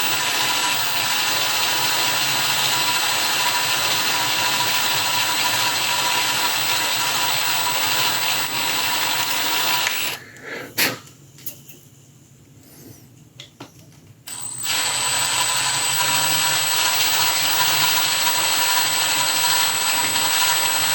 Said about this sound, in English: This is a new drill bit,